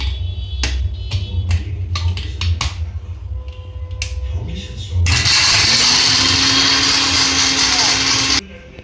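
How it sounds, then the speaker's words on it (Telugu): A mixer grinder grinding masala whirs loudly and steadily for several seconds after a stretch of clicks and knocks, then cuts off abruptly. "ఇదైతే మిక్సీ పట్టేసుకున్నాను"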